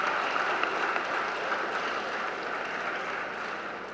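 A campus lecture hall audience gives a student a steady round of applause, a dense, even wash of many hands clapping that holds at one level throughout, with no voices over it.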